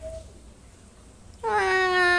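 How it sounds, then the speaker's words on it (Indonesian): A cat gives one drawn-out, fairly loud meow close by after a moment of near silence. "Kita mending lihat kucing aja"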